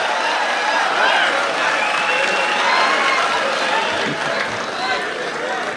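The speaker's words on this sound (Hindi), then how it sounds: "एक बार जोरदार तालियों से बुलाया जाए शकील आजमी साहब को" A dense, steady wash of audience applause at a mushaira, welcoming the poet Shakeel Azmi to the stage. Loud and sustained, with cheering voices and crowd chatter mixed through it.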